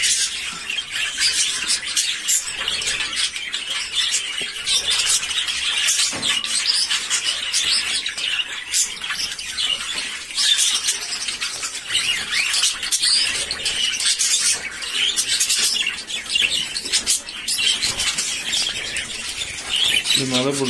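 Constant high-pitched chirping and tweeting from several small birds nearby, busy and loud throughout, with occasional squawks mixed in.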